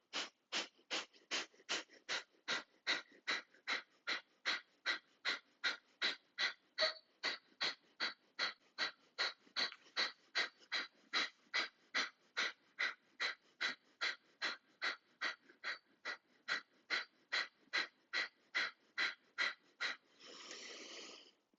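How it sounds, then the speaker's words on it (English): Powerful rapid yoga breathing exercise, a long run of about forty sharp, forceful exhalations in an even fast rhythm, close and clear, ending with one longer breath. "Really powerful and rapid breathing."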